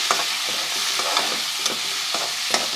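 Onions with garlic-ginger paste are stirred in a frying pan, giving repeated close scraping strokes over a steady sizzle.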